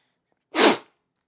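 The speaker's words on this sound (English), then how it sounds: "Please excuse me, I'm about to sneeze." A single close, loud sneeze bursts out once in a quiet room, short and breathy with a sharp onset and quick fade.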